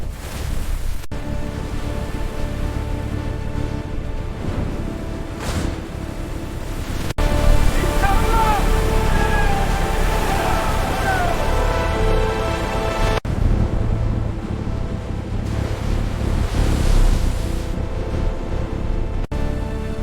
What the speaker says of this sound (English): Storm's breaking.